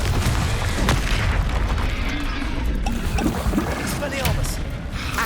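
Repeated spell blasts and explosive booms from Confringo casting in the wizarding video game Hogwarts Legacy, dense and continuous under a busy combat soundtrack with bursts of impact.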